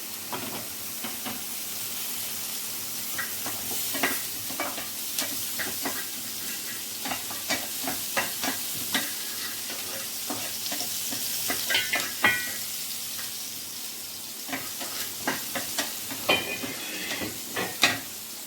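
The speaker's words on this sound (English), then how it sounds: "I'll just wait till my butter melts." Butter melting on a hot tawa gives a faint, steady sizzle with light crackles and pops that thicken toward the end, and no voices.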